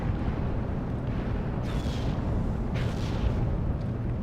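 Artillery shelling rumbles steadily in the WWII strategy game Steel Division: Normandy 44, a dense low roar of distant explosions with a couple of sharper whistling bursts rising over the continuous barrage.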